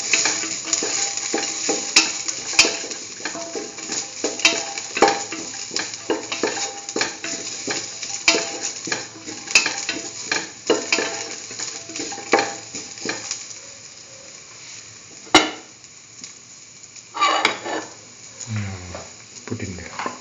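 Curry leaves, garlic and salt fry in hot oil in a pan while a spoon stirs them. A continuous crackling sizzle runs under repeated scraping strokes, easing toward the end, with no voices.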